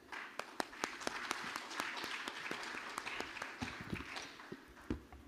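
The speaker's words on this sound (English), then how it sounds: "let's give a round of applause to Dr. Aitika and Madame Ajia." Audience applause after presenters at a public finance conference session, a continuous patter of many hands clapping with a few sharper individual claps standing out, heard faint and somewhat distant for about five seconds.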